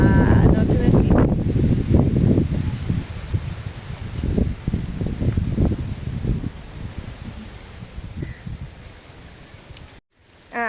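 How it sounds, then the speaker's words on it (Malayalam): Strong wind gusts buffet a home courtyard, a loud, roaring broadband rush that swells and eases for about ten seconds and then cuts out abruptly near the end. "നല്ല കാറ്റ്"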